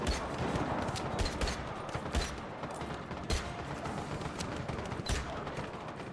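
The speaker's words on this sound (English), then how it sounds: "someone's shooting me" Gunfire in a video game crackles in repeated bursts of sharp shots aimed at the player, loud over a busy, noisy game background.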